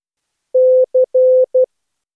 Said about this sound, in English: now the characters for the slow Morse code word of today.